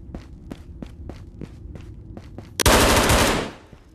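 Footsteps pad along in a steady rhythm, then a sharp, loud burst of automatic gunfire erupts close by in the underground Matka raid of Ghosts of Tabor, with no one speaking.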